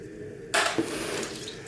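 RAM sticks being shaken in water to loosen gold-bearing parts during e-waste recycling: a sudden burst of sloshing, splashing water that starts abruptly and continues as a steady wash, with one brief knock partway through.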